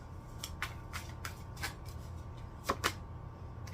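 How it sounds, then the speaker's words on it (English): Tarot cards shuffled by hand in a quiet room, giving a handful of soft, brief riffling bursts spread unevenly over a few seconds, with a louder pair near the end over a low steady hum. "I'm gonna shuffle."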